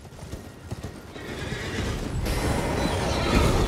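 A horse in the video game Elden Ring neighs loudly with clip-clopping hooves, the whinny rising into a sustained, close, full sound that grows louder toward the end.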